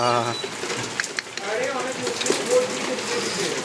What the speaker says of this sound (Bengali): কি দারুণ বৃষ্টি।